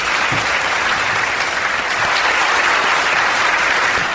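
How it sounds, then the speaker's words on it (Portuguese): A crowd claps steadily in sustained, dense applause, loud and continuous from start to finish. "Salva de palmas para a Letícia."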